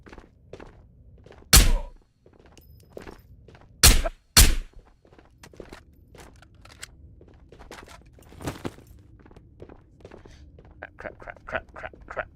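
Footsteps in the VR shooter Ghosts of Tabor: a few heavy, close thuds stand out among lighter, irregular steps and soft thumps over an otherwise quiet background.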